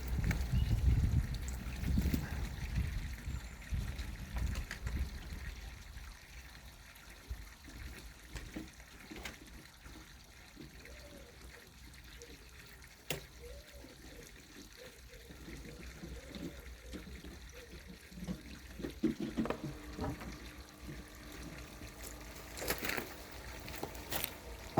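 Water poured from a bucket into a Bakki shower pond filter in a garden, a steady gush and trickle that starts loud and eases into a quieter flowing wash, with faint speech now and then.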